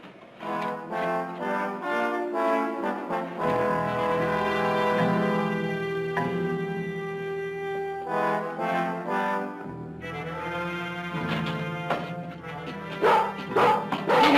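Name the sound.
sheepdog barking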